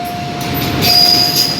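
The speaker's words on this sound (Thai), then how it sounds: "กำลังวิ่งผ่านจุดตัดทางรถไฟตลาดใหม่ดอนเมืองแล้วนะครับผม" A passenger train hauled by GA-class locomotive 4533 runs on rails past the Don Mueang market crossing toward Bangkok's Hua Lamphong station, making a loud, close, steady rumble with thin wheel squeals.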